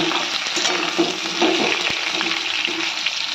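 Seeded bananas fry in a pan with a steady, close sizzle, broken by occasional stirring and scraping, and no talking.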